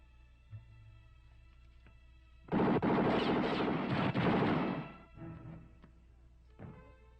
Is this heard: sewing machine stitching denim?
no